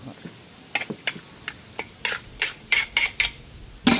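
A lid being set on a cooking pot of turkey adobo with Jack Daniel's: a string of light metallic clinks and taps, several spaced knocks ending in one firmer clank, close and clear with no talking.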